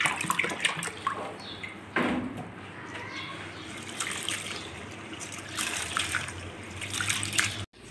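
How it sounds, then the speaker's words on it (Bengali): Clean water poured over atap rice and red lentils to wash them, a steady splashing and trickling rinse close by that continues through the whole stretch with a brief break near the end. "এবার আমি জল দিয়ে ধুয়ে নেব, 3-4 বার করে পরিষ্কার জল ঢেলে ধুয়ে নেব"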